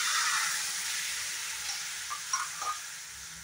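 Boiled dal poured into hot ghee for South Indian obbattu gives a steady broadband sizzle throughout, with a few brief louder splashes and stirring near the end and no talk.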